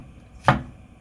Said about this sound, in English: I'm just going to cut these into little wheels